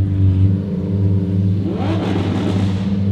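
A Lamborghini Aventador SV engine at a car meet idles with a deep steady rumble, then revs up sharply near the end into a louder rising roar, close and alone.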